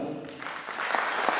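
An audience at a business gold-leader celebration breaks into applause honoring senior gold members, a brief, swelling burst of clapping, moderately loud.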